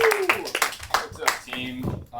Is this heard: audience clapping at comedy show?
yes